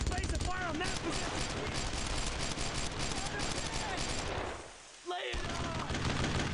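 Dense, continuous gunfire and machine-gun bursts in the World War II shooter Brothers in Arms: Road to Hill 30, loud and sustained with a brief lull near the end before the shooting resumes, with a voice talking over it.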